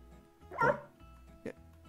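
A dog in the video game Minecraft gives two short yipping barks, the first louder and the second softer, near the listener against a quiet background.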